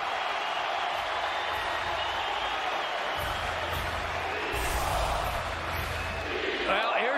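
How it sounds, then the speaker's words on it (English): A hockey crowd at Madison Square Garden roars and cheers after a Rangers save against the Flyers, a loud continuous wash of crowd noise that swells slightly toward the end, with commentary over it. "the fans are on their feet cheering Igor"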